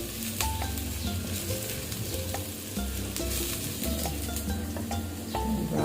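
Garlic fried rice (sinangag) browning in a pan, giving a steady, close sizzle and crackle throughout, with occasional scrapes and stirring clinks.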